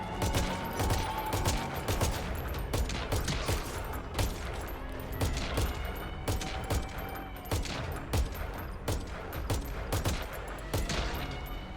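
Sustained gunfire in the video game Metal Gear Solid V, dense bursts of automatic fire and scattered single shots cracking continuously, loud and close with heavy low rumble, no voices.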